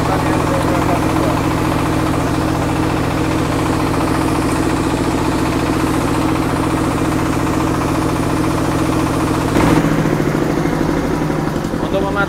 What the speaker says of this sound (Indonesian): Mesin giling padi Mak Tani.